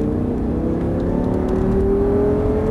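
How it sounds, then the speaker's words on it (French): Audi R8 accelerating at full throttle on the Abbeville race circuit, a loud, steady engine roar with pitch climbing as revs build, heard from inside the car. "Allez, gaz à fond."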